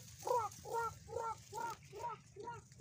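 A small bird gives six short, evenly spaced ticking calls in a steady rhythm, fairly close and clear against a quiet background, near a green rice field.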